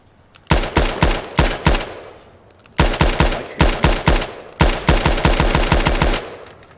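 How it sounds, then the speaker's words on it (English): A fully functioning firearm is test-fired at the range in three loud, close volleys of rapid shots, each broken by a short pause. "that is a fully functioning firearm. Let's do a test fire."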